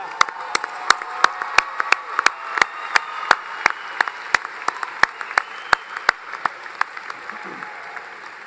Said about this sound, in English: One more round of applause for Taylor Bowden